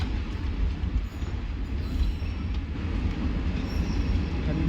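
A train runs, heard from inside a nearly empty carriage: a steady, dense low rumble with faint rattling, continuous and close throughout, with no talking.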